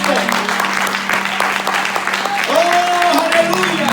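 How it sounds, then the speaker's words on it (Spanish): A church congregation applauds at a Spanish-language service, steady dense clapping throughout, with a sustained voice or organ tone and chatter running underneath. "Denle un aplauso al Señor Jesucristo"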